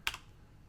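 A single sharp keystroke on a computer keyboard, close and crisp, while switching tools in Photoshop.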